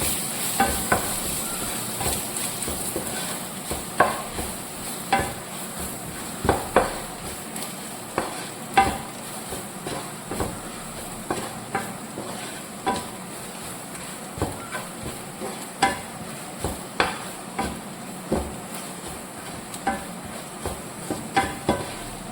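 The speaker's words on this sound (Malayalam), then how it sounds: "ഈ പൊടി ഒന്ന് ചൂടാവുന്നവരെ ഒന്ന് വഴറ്റണം" Garam masala and black pepper powder sautéing in a hot pan for soya dry roast, a steady low sizzle broken by repeated sharp spoon scrapes and stirring knocks, close and alone.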